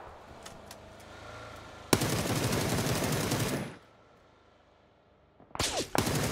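Automatic gunfire in PUBG: a short burst of rapid shots, a sustained loud spray of fire lasting nearly two seconds, a quiet lull, then another close burst.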